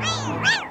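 Cartoon cats meow in a short, bright, rising cry, with a second meow close behind, loud and alone.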